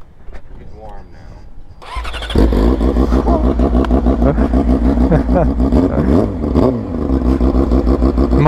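Superbike engine catches after a brief crank and settles into a loud, steady, close idle with slight revving fluctuations, while people talk in the background.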